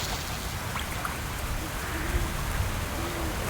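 Steady rain falls in the farming video game Fields of Mistria, a dense even patter that holds at a constant level throughout with no voices over it.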